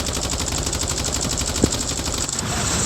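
Rapid, continuous automatic gunfire during a Call of Duty Mobile battle royale match, a loud, dense rattle of shots running throughout with one sharper crack partway through.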